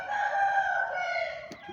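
A rooster crows in one long, loud drawn-out call that fills most of the moment, its tone holding steady and tapering slightly toward the end, with a faint brief cluck just after.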